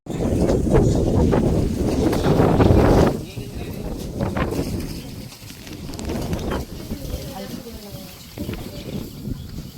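Breeze blows across an outdoor setting, gusting strongly in the opening seconds and then easing into lighter rushes, with people talking over it.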